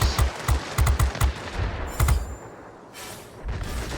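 Rapid machine gun bursts ring out in a combat flight video game at a military base, with clustered shots early, then a lull and a further stretch of firing, fairly close and loud.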